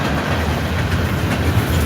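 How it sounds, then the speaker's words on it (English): A freight train rolls past at close range, its railcars giving a steady, dense rumble with a faint clickety-clack running through it, loud and unbroken. "So this is a good spot to catch a train."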